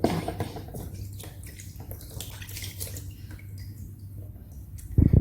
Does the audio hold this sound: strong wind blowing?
no